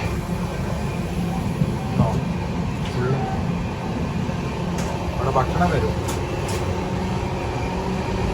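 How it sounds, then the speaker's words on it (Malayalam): A passenger train travels through Maharashtra, its steady rolling rumble and carriage rattle heard from inside the coach throughout, with a person talking over it. "ഇപ്പോഴും മഹാരാഷ്ട്രയിൽ കൂടെ തന്നെ കേട്ടോ ട്രെയിൻ പോകുന്നത്."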